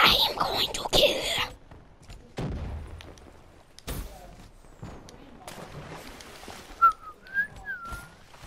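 A person whistles a few short rising chirps near the end, clear and fairly loud, after bursts of gunfire and explosions from a Call of Duty Black Ops 3 match.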